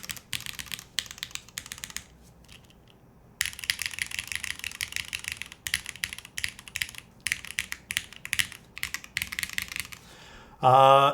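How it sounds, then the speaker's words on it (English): Someone types on a top-mount TKL mechanical keyboard, with bursts of close, crisp clacky keystrokes separated by brief pauses, then a short louder rattle at the end. "it's a little bit of a stiffer typing experience as a top mount keyboard"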